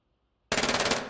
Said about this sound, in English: 9mm doesn't sound very scary at that range.